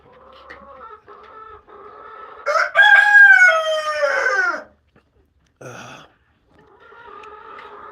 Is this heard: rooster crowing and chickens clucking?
yes